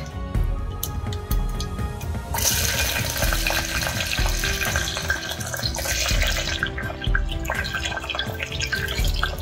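Green chilies and whole garam masala spices frying in two tablespoons of hot oil, a dense steady sizzle and crackle with scattered pops, close and loud with no talking.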